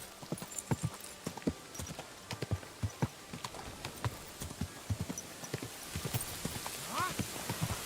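A horse's hooves pound in a steady clip-clop rhythm in the medieval video game Kingdom Come: Deliverance 2. The hoofbeats are close and distinct over faint ambient game noise, with a brief whinny-like sound near the end.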